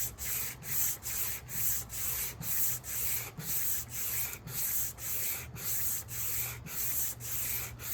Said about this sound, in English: I know I'm sanding a lot